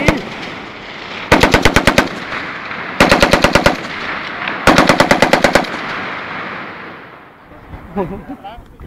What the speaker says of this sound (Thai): นี่คือการการยิงปืน